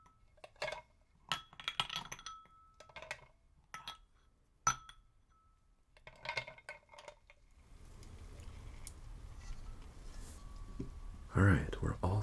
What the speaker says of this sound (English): let's get some ice in our shaker